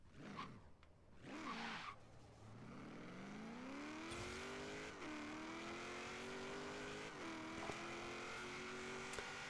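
A Mazda Miata engine in the video game Forza Horizon 3 revs up and holds a high, steady whine. Brief clicks and shifts come first, then the note climbs and stays loud with slight dips.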